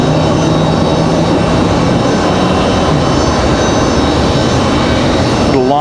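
Steady broadband jet roar from an Airbus A220 airliner at Raleigh-Durham International Airport, loud and continuous without a break across the whole stretch.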